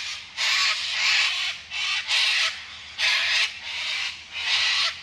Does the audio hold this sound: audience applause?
no